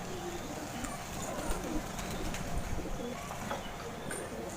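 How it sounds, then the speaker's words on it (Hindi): A female Kalsira Ambersara pigeon with pink feet and black claws coos softly amid steady background noise and other birds, while someone talks nearby. "करीब से आग का शौक, बहुत शानदार कबूतरी है, बहुत ही शानदार।"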